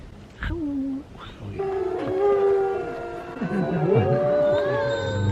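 Several wolves howl together in long, wavering overlapping tones, rising and falling in a steady chorus at moderate distance, at a wolf preserve in Columbia, New Jersey.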